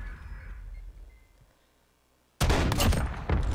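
Carbine gunfire in a shooter video game, a sudden loud burst of rapid shots breaking in after a quiet stretch.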